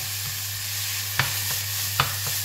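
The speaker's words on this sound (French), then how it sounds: "Et on va continuer à faire revenir notre viande." Ground meat frying in a pan with a steady broadband sizzle, broken by a few sharp scrapes and clacks of a utensil stirring it, along with a constant low electrical hum.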